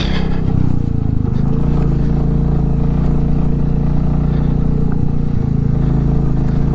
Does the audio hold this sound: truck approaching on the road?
yes